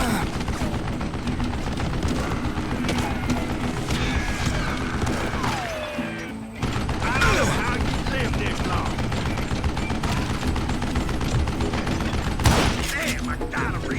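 An old man fires a gun in the Western shooter Call of Juarez: Gunslinger. Sharp shots and mechanical clatter sound over a busy, continuous backdrop of fighting, with a short dip in the middle, and a voice is heard now and then.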